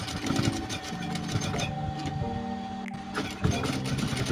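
A sewing machine stitches Levi's jeans during trouser reshaping, a steady mechanical hum and rapid rattling stitch rhythm, close and continuous with brief pauses, no talk.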